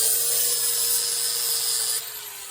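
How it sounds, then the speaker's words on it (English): A steady, high-pitched whine of a sanding wheel grinding against cement, continuous and close, dropping slightly in intensity near the end. "We're gonna hit it with the sanding wheel."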